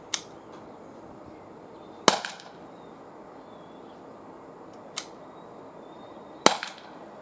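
An Umarex HDR 50 fires training balls at a can ten meters away: four sharp, isolated pops spaced a couple of seconds apart over a quiet outdoor background.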